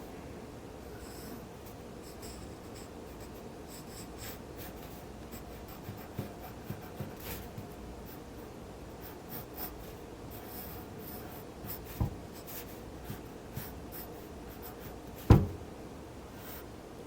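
A pencil sketches short hair on a drawing of a face, making faint scratchy strokes on paper with occasional light taps. The sound is quiet and close, with no talk.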